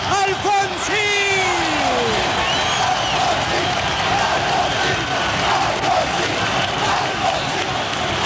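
Huge stadium crowd giving an ovation as politician Raúl Alfonsín arrives at the Ferro stadium, a continuous roar of cheering and chanting with whistles, a shouted voice standing out briefly near the start.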